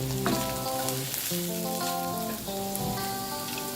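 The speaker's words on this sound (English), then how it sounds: "Let's saute all of them together until the onions turn translucent" Onions and mustard green stems sautéing together in a pan for a Malaysian vegetarian fried noodle dish, a steady sizzle under soft background music, with no talk.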